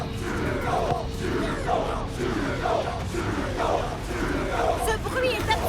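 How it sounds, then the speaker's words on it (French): Cartoon football supporters roar and cheer loudly in a stadium, a dense crowd din with swelling shouts and yells throughout, no single voice standing out. "Le chèque veut que la foule de supporters fasse encore plus de bruit."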